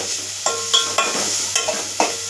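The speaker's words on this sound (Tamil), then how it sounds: "இந்த கேரட்டை நம்ம இதில் வறுத்து எடுக்கலாம்." Carrots frying in a pan under a constant close hiss of oil, punctuated by about five sharp stirring scrapes at uneven intervals, no one talking.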